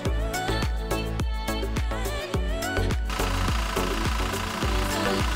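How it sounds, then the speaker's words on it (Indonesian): A Toyota diesel engine restarts after fuel system purging and clatters steadily at idle, with a rapid rhythmic knocking, loud and close throughout. "Nyalakan kembali mesin mobil"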